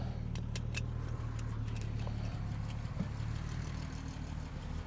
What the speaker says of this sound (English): Idles fantastically well, honestly. It idles really, really well